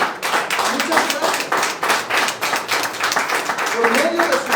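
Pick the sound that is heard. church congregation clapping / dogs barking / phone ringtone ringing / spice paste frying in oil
church congregation clapping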